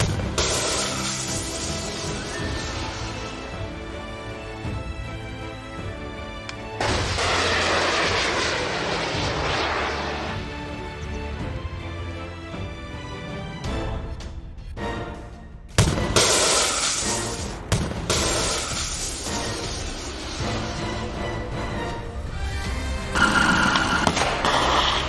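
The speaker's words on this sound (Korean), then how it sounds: "유도탄 발사 5초 전, 4초, 3초, 2초, 1초, 발사!" A guided missile launch sound effect roars loudly with jet-like rushing swells, then a sharp blast and crackling burst partway through, building again toward the end, with no voices.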